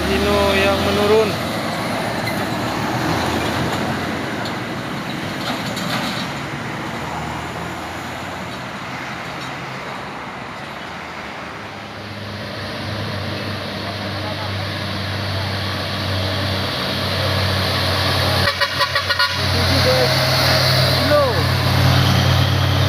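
A Hino trailer truck rolls downhill past a steep road climb, its engine a steady, loud drone mixed with dense roadway noise, which stays continuous for the whole stretch as it passes close by.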